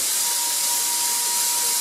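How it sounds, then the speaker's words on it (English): A paint sprayer hisses in one steady, loud, unbroken spray, used for coating a black high-gain projector screen, with a faint thin tone running beneath. "clean out the sprayer before I start spraying the screen"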